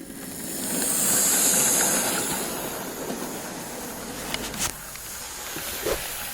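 A Hornby BR King Class model locomotive, King Edward II, running along its track with a rising, steady whirring rumble and a faint high whine, close up, a few small clicks near the end.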